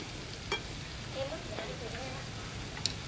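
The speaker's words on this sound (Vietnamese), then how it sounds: "Chiên một cái nữa nè." Battered banana fritters fry in hot oil with a steady, dense sizzle throughout, punctuated by a few brief clinks and soft, faint voices in the background.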